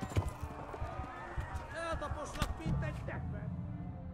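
A horse gallops in the Kingdom Come: Deliverance video game, its hooves thudding in a quick, uneven rhythm at moderate distance under a rumbling game ambience, with a snort near the end.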